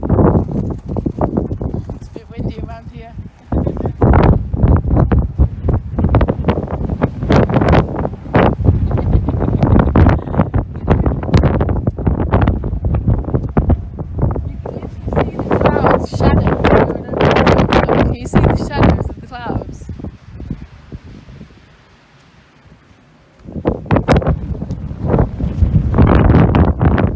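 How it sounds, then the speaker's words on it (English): Wind gusts across an exposed hilltop on a castle hill, loud and buffeting the microphone in continuous rushes with a brief lull near the end, while people talk beneath it. "It's a bit windy around here."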